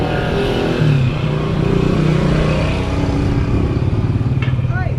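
A motorcycle engine idles and rumbles steadily close by in a back alley behind a hotel in the Philippines, a continuous low drone with faint traffic and background noise.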